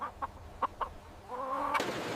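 Laying hens on an egg farm give a few short, separate clucks, then a longer drawn-out call that ends in a sharp click, all at moderate volume with no voices.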